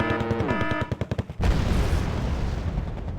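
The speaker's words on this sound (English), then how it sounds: "Let's go ahead and fire at the infantry." In Wargame: Red Dragon, a rapid rhythmic burst of automatic fire at infantry gives way to a loud boom and a rumbling, crackling barrage that fades slowly.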